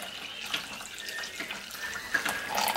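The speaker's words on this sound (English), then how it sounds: "I'm going to add the liquid right into that middle there." Liquid is poured into a well in flour for Jamaican bulla cake, a steady close splashing trickle that carries on for a few seconds, moderately loud, with no talking.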